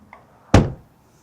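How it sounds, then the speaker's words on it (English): A Hyundai Kona car door with a previously faulty lock is shut once: a single solid, close thunk preceded by a faint click, then quiet. "if I shut the door, it opens from the outside and it opens from the inside."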